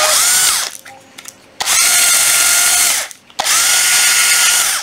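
A Makita cordless drill with a 13 mm keyless chuck runs in three loud, close bursts, its high motor whine rising as it spins up and cutting off between runs, with no talking.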